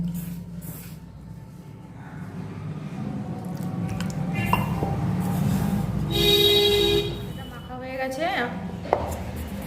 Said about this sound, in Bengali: এবার আমি অল্প অল্প জল দিয়ে ময়দাটা মাখিয়ে নেব।